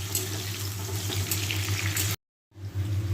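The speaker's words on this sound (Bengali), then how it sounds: "প্রথমে ক্যাপসিকামটাকে দিলাম, ক্যাপসিকামটাকে একটু সটে করে, বেশি ভাজবো না, অল্প ভাজা।" Capsicum sautés in a pan with a close, steady sizzle over a low hum, cutting to silence for a moment before the frying noise resumes.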